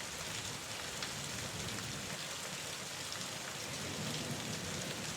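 Steady rain pours down without pause, a dense even hiss of drops striking surfaces at moderate distance, with no voices or other sounds breaking through.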